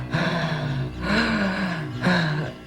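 A voice imitates heavy, deep breathing close in the ear, with three long drawn breaths that each swell and fade, loud and near, with no words spoken.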